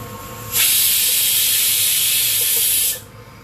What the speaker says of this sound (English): Switch off, release the pressure.